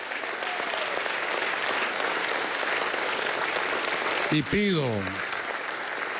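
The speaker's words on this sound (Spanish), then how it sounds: "Pido un aplauso a ustedes, a nuestra gloriosa Fuerza Armada Nacional Bolivariana" Sustained applause fills Venezuela's National Assembly, a dense wash of many hands clapping steadily, with a voice briefly speaking over it near the end.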